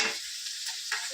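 Onions frying in oil, a steady broadband sizzle with a faint scrape of stirring, close and moderately loud for about a second with no voices.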